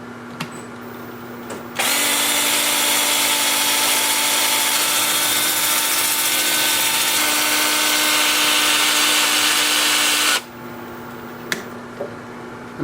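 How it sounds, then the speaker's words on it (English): Sandpaper held against a spinning live-edge plum wood bowl on a lathe turning in reverse at 350 RPM, a steady loud whirring hiss that runs unbroken for about eight seconds, with quieter motor hum before and after. "I'm starting the sanding at 80 grit in reverse at 350 RPM."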